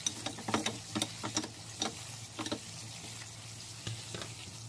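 Chopped tomato sautéing in olive oil in a hot pan for a simple tomato soup, giving a steady close sizzle with scattered crackles and pops, no voices.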